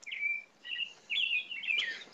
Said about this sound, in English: There's birds all around me.